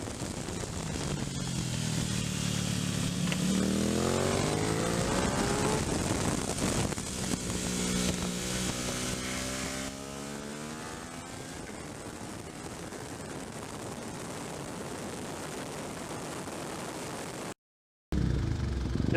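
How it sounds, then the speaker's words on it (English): An old classic motorbike engine and a noisy generator at a race track make a loud, continuous mechanical drone with rising and falling engine tones. The noise is heavier at first, then eases, then cuts out briefly near the end before resuming. "You'll have to excuse the noise of a donkey old classic bike and a noisy generator."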